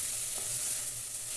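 Steady, close sizzling of pasta frying in a pan, a continuous crackling hiss with faint stirring, no voices.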